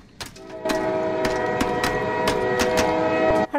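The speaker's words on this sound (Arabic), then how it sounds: "وتم الأمس تدشين القطار الواصل بين العاصمة والصحراء." Train on a newly inaugurated railway linking the capital and the desert, with a sustained loud horn tone over rhythmic clacking of wheels on rail joints, close and continuous.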